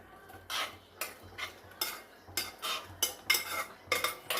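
Sago and moong dal payasam is stirred in a pot for a festival offering, a spoon scraping and clinking against the metal in about eight distinct strokes, close and clear, with no talking.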